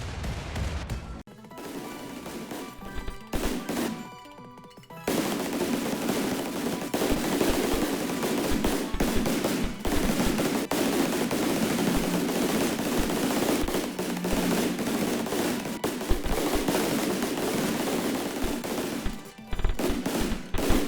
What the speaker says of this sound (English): these tiny little kind of machine gun shots should do some damage at that point